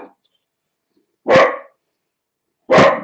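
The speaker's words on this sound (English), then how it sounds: "I'm going to go and see what he's barking at." A dog barks twice indoors, two short sharp barks a second or so apart against near silence, fairly close.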